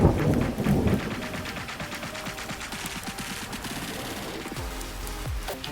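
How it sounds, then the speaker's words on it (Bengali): Thunder rumbles with heavy rain in a cartoon storm, opening with a loud roll of thunder and then a steady downpour, with scattered cracks and other sound effects throughout. "কেমন বাজ পড়ছে দেখছেন না, বৃষ্টিটাও বাড়ছে"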